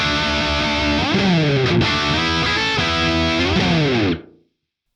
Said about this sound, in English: That's just adding a bit of that room sound on there.